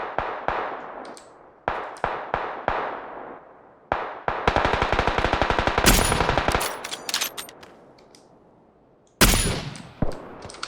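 Rapid automatic gunfire from a bot in the PUBG video game, coming in several loud bursts of shots with short gaps between them and a longer sustained volley in the middle.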